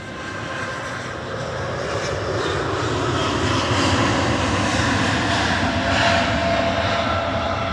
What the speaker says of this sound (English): Gulf Air departing to Bahrain, flight 4, A9C-FF